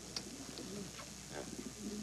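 Pigeons softly cooing in a coop, several low repeated coos and a few faint chirps blending with a steady background hiss.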